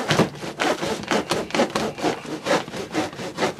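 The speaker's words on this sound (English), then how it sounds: "I'll let my sander do a little bit of the work." Power sander or reciprocating saw cutting into tough 3D archery target repair foam, a steady rasping, scraping cut pulsing in roughly ten even strokes, close and fairly loud with no talking.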